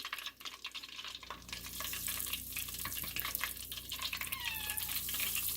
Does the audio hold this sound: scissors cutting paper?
no